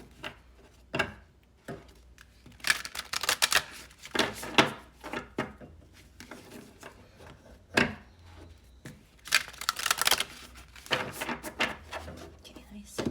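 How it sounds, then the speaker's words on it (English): Playing cards are riffled and shuffled in quick, crisp bursts, with soft handling noises between them and a voice speaking at times. "I'll shuffle this one as well"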